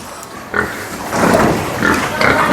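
Pigs on an organic pig farm in Indonesia grunt and snort in repeated bursts, close and fairly loud, over steady barn noise.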